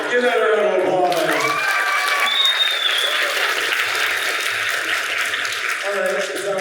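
A crowd at a festival voice-acting event bursts into loud applause and cheering that gradually thins out, with a voice speaking briefly at the start and end.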